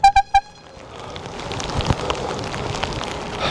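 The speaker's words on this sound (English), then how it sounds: "here comes the rain" Rain falling during a bike ride through city streets, a broad steady wash of droplets and spray after three short bell-like dings at the start, close and continuous.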